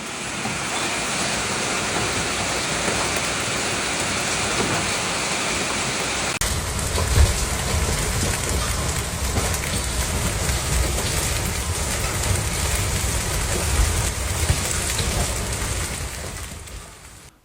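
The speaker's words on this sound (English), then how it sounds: "A powerful hailstorm swept through the area, unleashing a barrage of ice that damaged vehicles, shattered windshields" A hailstorm in Xuanhua pelts cars with ice, producing a dense, continuous roar of impacts that grows heavier partway through, with scattered sharper hits standing out from the steady downpour.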